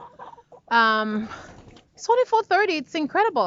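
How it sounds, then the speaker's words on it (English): Free-ranging backyard chickens cluck and call near a coop enclosure at dusk, a short burst of bird sound mixed in and around a person talking close by. "my chickens are following me because they know it's time to be fed"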